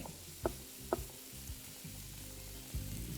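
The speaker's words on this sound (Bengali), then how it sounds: "এবার পেঁয়াজটাকে আপনাদের ভালো করে একটু ভেজে নিতে হবে।" Onion frying over a medium flame for a steamed egg dish, with a steady close sizzle broken by a few sharp utensil taps and scrapes against the pan.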